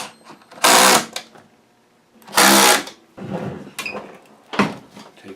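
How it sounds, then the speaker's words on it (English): Screws being driven back into the housing of a Eureka Precision Boss vacuum cleaner during repair, heard as two loud, sustained whirring bursts of a screwdriver separated by quieter clicks and handling noise, close up with no talking. "Put the screws back in."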